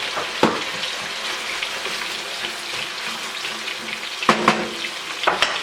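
Chicken thighs and aromatics fry in a pan with a steady, close sizzle throughout, broken by a few sharp utensil knocks and clatters near the start and end.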